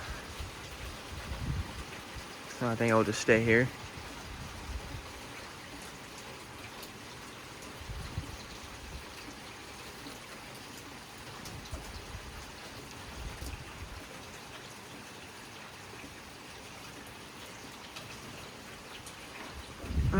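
Steady rain hisses down over a lakeside spot during a mild thunderstorm, a continuous even wash with a brief voice speaking near the start.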